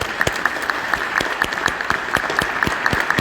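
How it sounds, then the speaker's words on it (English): Scattered hand clapping from mourners at a funeral service, individual sharp claps ringing out in a loose, uneven rhythm across a room, fairly close and distinct rather than a dense roar. "Just let's give a little clapping for Irv."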